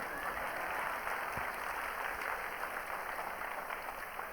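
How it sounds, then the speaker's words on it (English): An audience at a live science festival show gives a round of applause, a dense, steady wash of clapping from a large crowd that holds evenly throughout without any talk on top. "Give them a round of applause."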